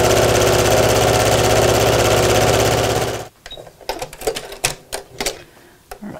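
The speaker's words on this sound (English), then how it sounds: "And we'll just keep sewing until we've got four sets of pairs" Sewing machine stitching fabric strips for a twisted tote, running loud and steady at close range for about three seconds, then stopping and giving way to soft handling noises and brief clicks.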